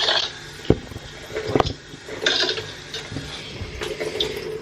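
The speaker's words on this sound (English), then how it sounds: "I'm just trying to rinse my face mask off." Running tap water splashes into a sink while a face mask is rinsed under it, close and fairly loud with irregular splashes and a few knocks.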